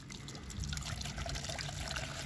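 Water trickles and dribbles through a small tabletop watershed model fitted with wetlands, a soft, continuous liquid patter with faint bubbling, quiet and close, without talk.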